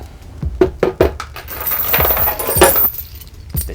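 Metal shackle and chain of a punching bag handled up close, a run of sharp jangling clinks and rattles at an uneven rhythm, fairly loud with no talking.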